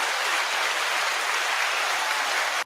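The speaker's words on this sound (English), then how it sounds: "I did the applause because that's great for me." Dense crowd applause played as a sound effect, a steady broadband clatter of many hands holding at even loudness for the full stretch before cutting off abruptly at the end.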